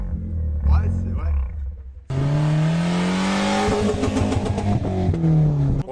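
A BMW E36 four-cylinder with a valved exhaust starts and revs in a rising, rasping drone that holds loud and close. Voices talk over the idle just before it fires up.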